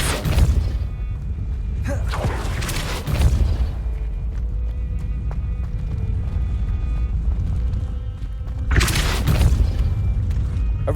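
In the Hogwarts Legacy video game, the Depulso spell is cast with deep booming blasts, first near the start and again around the three- and nine-second marks, over a constant low rumble.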